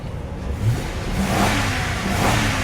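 The engine of a 2003 Lincoln Town Car that sat unused for over seven years runs close by, its pitch rising and falling through a couple of revs over a steady idle.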